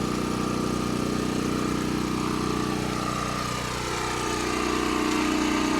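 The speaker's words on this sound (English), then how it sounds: "sorry it's loud, but we've got the generator" A generator runs nonstop at a remote campsite, a loud, steady engine drone that fills the whole stretch with no talking.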